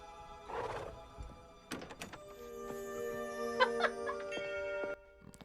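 In a Christmas movie scene, a horse pulling a carriage whinnies, and hooves clop and thunk, followed by a sustained ringing, bell-like tone.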